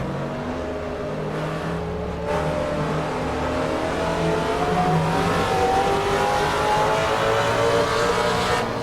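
A Vintage Trans Am Challenger race car built by Autodynamics, with a 340 Six Pack engine, drones steadily in Assetto Corsa, its engine note climbing gradually as it accelerates, with no voices.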